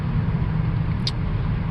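Cars roll along a road through the Black Hills National Forest, a steady broad rumble of tyres and engines heard from inside a moving vehicle, with no pauses.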